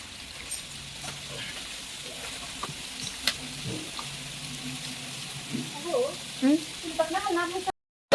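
Garlic cloves sizzle steadily in hot oil while cooking chicken 65, close and moderately loud, with occasional light clinks and scrapes of a utensil toward the end.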